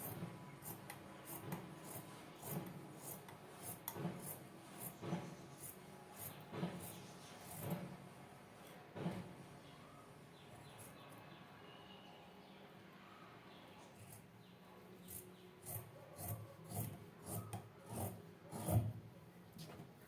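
Scissors cut out a paper skirt pattern, giving intermittent snips and papery rustles at close range, with short bursts of cutting separated by quieter handling.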